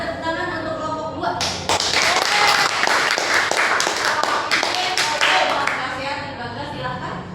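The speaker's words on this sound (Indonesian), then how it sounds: "tepuk tangan untuk kelompok 2" Students in a classroom applaud the second student group before it presents a solar panel model: a burst of close, busy hand clapping lasting a few seconds, then tapering off, with talking around it.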